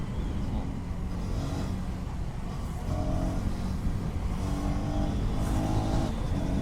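A KTM Duke 250 Gen 3 motorcycle accelerates on the road, its engine note buried under heavy, steady wind rush with faint rising tones from gear changes.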